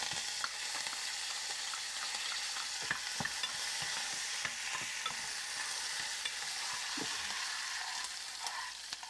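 Dried red chillies and curry leaves frying in a hot oil tempering with urad dal, giving a soft, even sizzle with scattered small pops and light stirring, fairly quiet and without talk.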